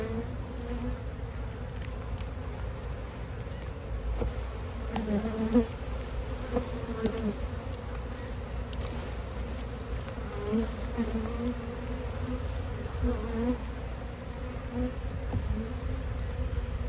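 Honey bees swarm and buzz around an open, boosted hive during a brood inspection, a dense steady hum close by that holds for the whole stretch with no talking.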